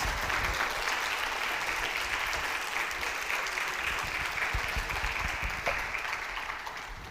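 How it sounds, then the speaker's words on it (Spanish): A church congregation claps together as an offering of applause during a Spanish-language sermon on reconciliation, a full, steady roar of many hands that fills the room, then tapers slightly toward the end. "Vamos a dar una ofrenda de palmas"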